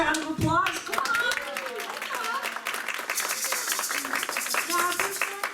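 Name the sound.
audience applause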